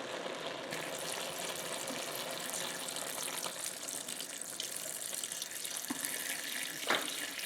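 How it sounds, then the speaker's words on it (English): Filtered water pours steadily into a pot while cream of cauliflower soup is being made in a home kitchen, a continuous broadband splash with a few small clinks near the end. "I like to use the filtered water."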